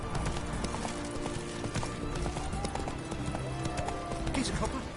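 Roach the horse gallops in The Witcher 3 with steady clip-clop hoofbeats and occasional whinnies over a dense bed of game ambience and music, the rhythm continuous throughout.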